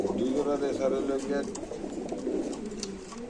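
Pigeons cooing at a busy pigeon market, with a steady chorus of low, throaty coos close by and continuous under people talking.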